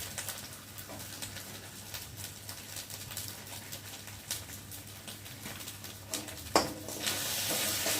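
Salt, turmeric and chilli powder frying in a pan with bhetki fish, giving a soft, steady sizzle throughout with a brief clatter near the end.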